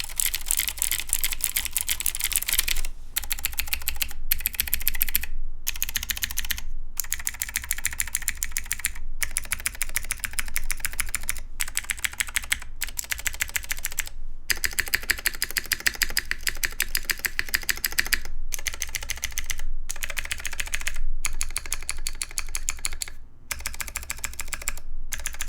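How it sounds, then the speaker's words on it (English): Someone types steadily on a Lin Whale keyboard with TTC Skylar switches on an aluminum plate, producing a dense, continuous run of crisp keystrokes broken by a few short pauses, close and clear with no speech. "The sound on the aluminum plate is really solid."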